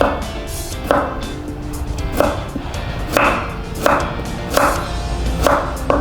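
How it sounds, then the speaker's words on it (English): A knife slicing a carrot diagonally on a cutting board, six or seven firm, evenly spaced chops close up, each a sharp knock against the board. "We're gonna slice it, but not like this, diagonally, kind of like long"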